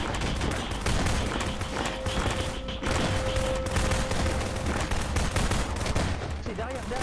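Suppressive gunfire crackles through a French-language video game battle around an armored personnel carrier, with dense, continuous bursts of rifle and machine-gun fire over the whole stretch and a voice calling out faintly beneath the shooting.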